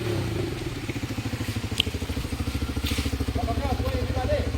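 A modified Bajaj Pulsar NS 200 doing a burnout, a rapid pulsing engine throb with crackle and tyre scrape, close and continuous, with a brief sharp click midway.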